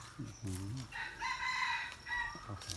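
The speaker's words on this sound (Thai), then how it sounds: "เสียงไก่" A rooster crows at a home garden where vegetables are grown, giving a few clear, ringing calls one after another at moderate distance.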